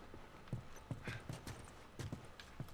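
Horse hooves clip-clop in The Last of Us video game, a faint, steady series of soft hoof strikes in an uneven walking rhythm.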